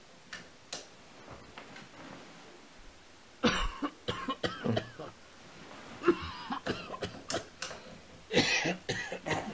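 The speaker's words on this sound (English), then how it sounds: "That dry cough starts." Several dry, hacking coughs burst out in irregular clusters, close by, with quiet rustling and ticking in between.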